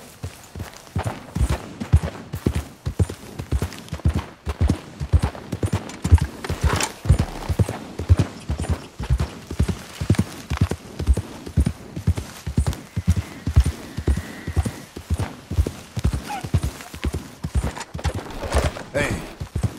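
Steady rhythmic clip-clop of horse hooves walking in Red Dead Redemption 2, close and continuous throughout, with occasional speech over the hoofbeats.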